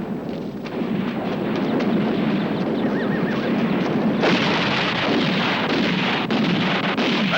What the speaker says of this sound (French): Il faut renforcer les tirs d'artillerie.